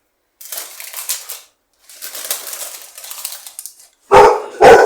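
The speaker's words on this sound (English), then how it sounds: "There's the dog barking." A dog barks in short bursts from a kitchen where sourdough bread is being baked, two loud close barks near the end after softer rustling and handling sounds.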